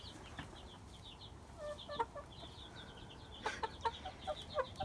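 Small flock of chickens clucking softly at a distance, with scattered short calls and chirps over a low background murmur, getting busier toward the end.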